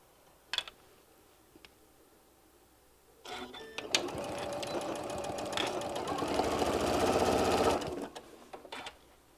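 A sewing machine stitches through heavy bean bag fabric, with a few faint clicks before a steady, fast mechanical whirr runs for several seconds, then stops and gives way to a few handling taps.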